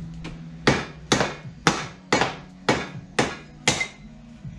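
Hammer blows struck while dismantling the pulleys of an engine, about seven sharp metallic strikes at a fairly even pace, each ringing briefly before the next, close and loud with no talking.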